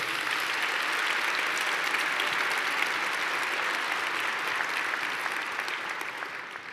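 A large audience at a mayor's State of the City address breaks into sustained, dense applause that holds steady for several seconds before tapering off at the end.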